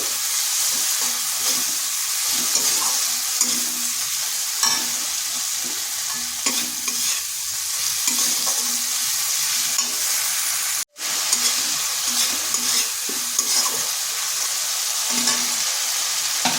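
Dry spice masala fries in oil in a pan for a pointed gourd and red lentil dish, with a loud, continuous close sizzle. Stirring scrapes recur throughout, and the sound cuts out briefly once partway through.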